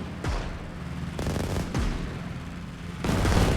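Gunfire and artillery from the real-time strategy game Systemic War, set in the Battle of Warsaw, crack out in loud bursts, with sharp booming shots and dense rattling volleys repeating over about three seconds.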